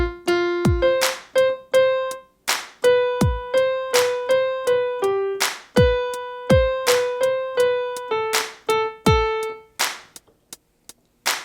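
Piano plays bars 5 to 8 of a song in a beginner arrangement: clear, close single notes and struck chords in a bouncy pattern, played alone before the last note rings out and fades.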